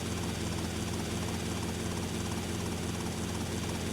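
A helicopter in GTA Vice City gives off a constant dense rotor and engine roar, loud and unbroken, with no talking.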